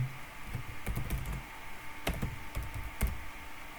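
Quick bursts of key clicks on a computer keyboard as a random ID number is typed into a visitor-tracking program, clear and close, in short irregular clusters with no talk.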